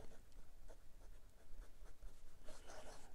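A fake Lamy Dialog 3 fountain pen nib scratching softly across 90 GSM Clairefontaine paper, faint close strokes in short irregular bursts with no talking.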